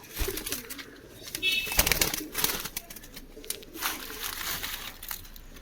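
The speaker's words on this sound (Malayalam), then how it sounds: "ഇത് ഫാൻസി പ്രാവാണ്" Soft cooing of a fancy pigeon close by, in low murmuring bursts over faint rustling and shuffling.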